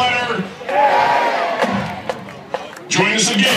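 A basketball crowd at a University of Dayton home game against Duquesne shouts and cheers before tip-off, swelling into loud roars and whoops in an arena, with an announcer's voice amplified over the noise.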